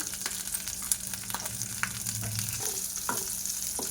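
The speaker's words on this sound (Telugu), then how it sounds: "పచ్చిమిరపకాయలు కూడా ఫ్రై అయిపోయినాయండి" Green chilies fry in a pan of hot oil for cabbage pachadi, a steady close sizzle with faint crackles and soft scraping throughout, no voices.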